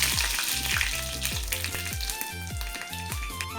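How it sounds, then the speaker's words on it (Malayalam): Curry leaves crackling and spluttering in hot oil in a pan for a Kerala-style raw papaya thoran, a busy close sizzle with sharp pops scattered throughout and no talking. "പൊട്ടിക്കഴിഞ്ഞതിന് ശേഷം നമ്മൾ ഈ കരിവേപ്പില അങ്ങോട്ടിടുന്നേ."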